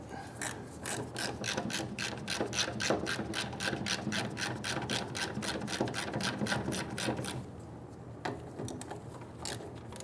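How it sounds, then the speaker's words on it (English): Bolts being removed from the fuel pump sending unit of a 1994-2004 Ford Mustang with a ratchet, a fast run of rapid clicking ratchet strokes, then a pause and a few more clicks, close and clear. "We're going to remove the 5/16 bolts around the top of the fuel pump sending unit"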